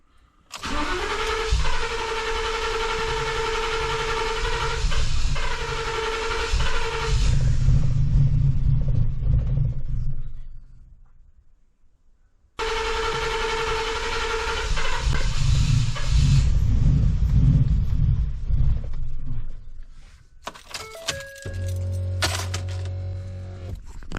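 A broken-down truck engine runs loud and steady, then dies away into near silence; after a pause it starts and runs again before faltering, with tonal clanks and whines near the end.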